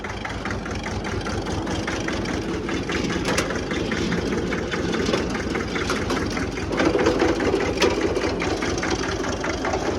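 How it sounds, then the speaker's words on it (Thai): A Hinomoto E23 walk-behind tractor engine drives a pesticide sprayer tank pump, making a steady, close, rhythmic chugging drone that runs continuously and grows slightly louder near the end, with no talk. "นี่นะครับ ถังฉีดยานะครับเดี๋ยวลองปั่นดูนะครับ"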